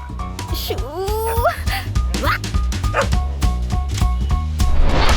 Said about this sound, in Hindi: ये हमारे पड़ोसी मिलिट्री मैन का कुत्ता है